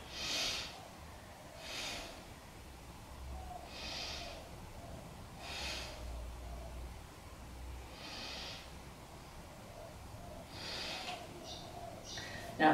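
Slow, deep yoga breaths repeat at a calm, even pace: about six soft, airy inhales and exhales, close and quiet, with a faint bump at the end.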